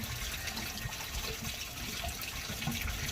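A washing machine fills with water as a steady rushing stream pours in, continuous and fairly loud with no talking.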